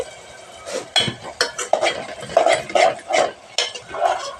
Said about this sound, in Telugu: టమాటాలు కూడా ఉడుకుతున్నాయండి